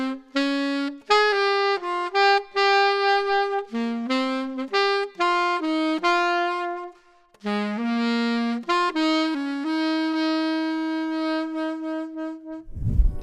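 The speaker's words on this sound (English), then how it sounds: "It's thin, it's pinched, and it lacks the richness that I want to hear from a saxophone." A saxophone is played with a thin, pinched tone, a sequence of short and sustained notes with small gaps between phrases, close and clear, ending on a long held note.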